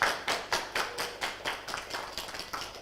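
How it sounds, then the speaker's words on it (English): A small audience claps about a dozen times in a steady, rhythmic burst at a proctology event, each hand clap close and distinct, with no talk over it. "3 claps for them"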